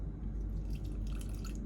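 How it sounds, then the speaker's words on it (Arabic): Ice-cold water poured gradually into a Nescafe cake mixture in a bowl: a steady, close splashing trickle with dripping that runs through the whole short stretch, with no talking. "هلا حاليا رح نزل بالتدريج نص كوب ماء مثلج"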